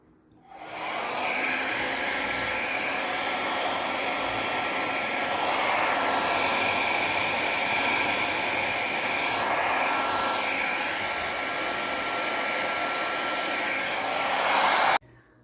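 A hair dryer blowing across wet fluid art paint, a loud steady close whoosh that holds for the whole stretch before cutting off, with no talk.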